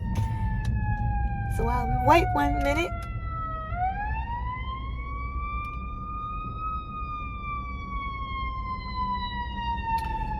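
An emergency vehicle siren wails and sweeps in pitch, then settles into a long, steady rising-and-falling tone over road noise, heard from inside a moving car, with a brief spoken remark near the start.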